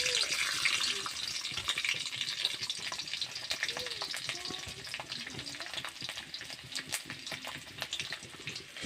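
Garlic fries in hot oil in a pan, giving a crackling, spitting sizzle with sharp pops and occasional stirring. It is close and fairly loud at first, then settles slightly.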